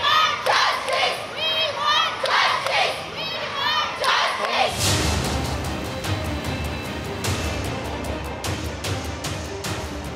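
Large mixed crowd of men and women at a night protest over a doctor's murder, chanting a slogan in rhythmic repeated bursts, then a broader roar of shouting voices.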